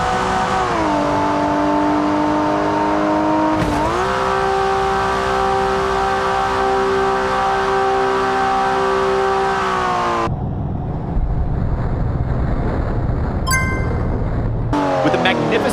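A Ferrari 599 in a racing video game revs hard as it accelerates toward a huge jump, its engine note climbing steadily with a gear change, then cutting to a rushing airborne whoosh and a brief impact near the end.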